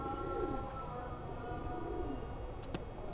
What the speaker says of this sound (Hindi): अलाहाबादी कबूतर, बहुत ही लाइट वेट कबूतर है